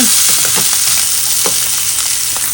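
Browned pork ribs sizzle steadily in a frying pan after being turned to the other side, with a loud continuous crackle and scattered spits and pops close by.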